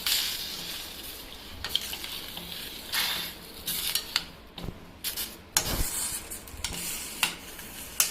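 A spoon stirs Goan sausage chilly fry (choris) in a pan: irregular scraping strokes and clinks come over a soft, constant sizzle, close and fairly quiet, with no talking.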